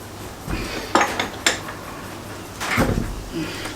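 Metal clanks of a breaker bar being fitted onto the snout of a BMW D190 marine engine, heard as several sharp, close clinks and a scraping knock in a quiet workspace.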